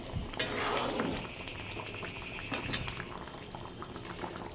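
A thin Tangra fish curry with potatoes, lentil dumplings and drumsticks bubbles softly in a pot, a low steady simmer with a few brief clinks, no voices.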